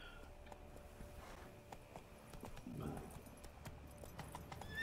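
Hooves of Roach, Geralt's horse in The Witcher 3: Wild Hunt, clip-clopping in a quiet, fairly regular walking rhythm with a soft snort or whinny midway, faint and close.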